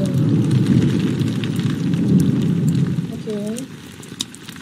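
Steady rain falls in a Roblox horror video game, a dense, continuous hiss that fades somewhat toward the end, with people talking over it.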